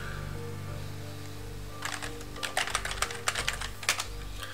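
Someone types a login password on a computer keyboard at a telnet prompt: a short burst of quick, crisp key clicks close by, following a few seconds of low machine hum.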